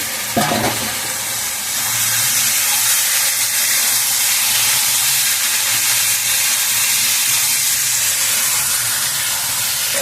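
Potatoes and rupchanda (pomfret) fish sauté in a hot pan, making a continuous loud, hissing sizzle that begins with a brief burst and then stays steady throughout.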